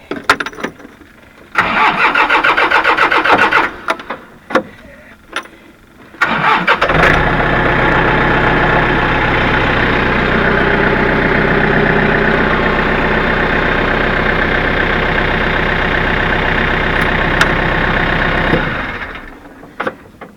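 A John Deere 110 TLB tractor-loader-backhoe engine cranks in a few short bursts, then catches and settles into a steady, loud, rumbling idle that runs close by for about twelve seconds before shutting off.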